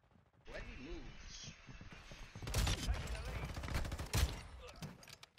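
Gunfire in Call of Duty, with a sharp burst of several rapid shots and crashes through the middle and a louder shot near the end, and a person talking over the firing.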